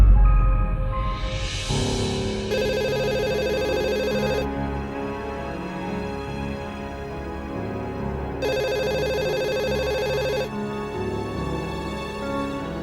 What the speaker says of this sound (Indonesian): Suara telepon.